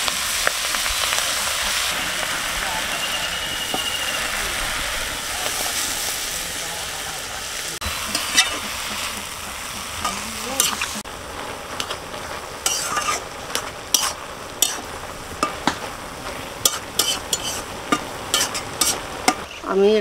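Greens sizzle in a hot pan with oil after prawns were fried, a steady frying hiss with repeated clacking strokes of stirring growing sharper over time, under faint background talk.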